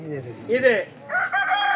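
A rooster gives a short, clear crow close by at a village temple festival, rising and falling in a quick phrase, while a voice is briefly heard.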